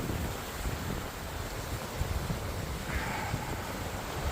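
Steady broadband wind roar and wave wash aboard a sailboat at sea, 18 to 22 knot winds, heading toward Cape Cod Canal; continuous and fairly loud with gusty buffeting on the microphone and no talk.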